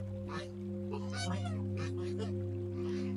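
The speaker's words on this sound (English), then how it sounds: "Got three big geese, and for some reason today they want to come over here." Three large geese honk in short, ragged bursts close by, over a steady electrical hum in an outdoor setting in Thailand.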